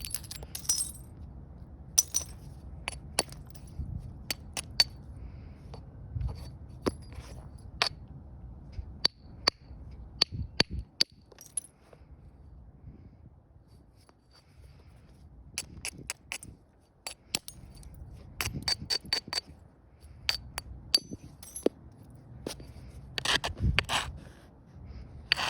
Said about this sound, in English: I'll just do a little cleaner with the hammerstone.